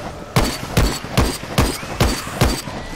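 Shotgun blasts in the zombie shooter Dead Frontier 2, six loud, close booming shots fired at a steady pace of roughly one every 0.4 seconds, with no talk over them.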